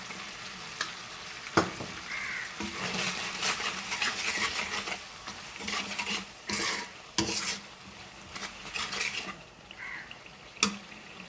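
Maskalai lentil dal sautés in a pan while being stirred, a soft frying sizzle under repeated scraping strokes and sharp clinks of a spoon against the metal pan.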